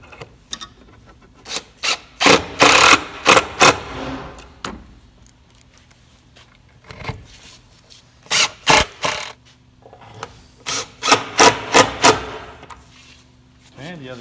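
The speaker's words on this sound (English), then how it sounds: "Using an impact driver now to put those screws in." An impact driver sets screws during final assembly in loud rattling bursts, first one cluster and then two more after a pause, each burst a rapid chain of hammering pulses, close by and with no talking.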